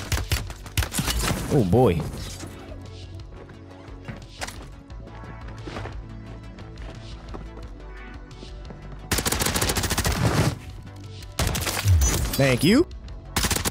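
Automatic weapon fire in the shooter Warzone, with rapid bursts at the start, a quieter stretch, then loud renewed firing near the end, while a voice speaks briefly over it.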